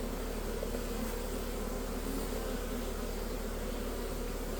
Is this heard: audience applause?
no